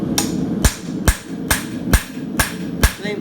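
A farrier's hammer drives a punch through a steel horseshoe on an anvil in Arizona, six sharp ringing metallic strikes at a steady rhythm, loud and close with no talk.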